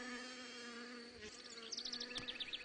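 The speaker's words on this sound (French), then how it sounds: "Le velutina vole de façon stationnaire, le dos tourné à la ruche." An Asian hornet (Vespa velutina) hovers near a beehive with a steady close buzzing drone, joined toward the end by a brief burst of higher fluttering wingbeats.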